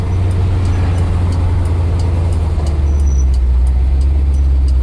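Cabin hum of a 1957 Chevrolet 3100 restomod pickup on the move: a steady low engine and road drone, loud and unbroken, with faint ticking above and no voices.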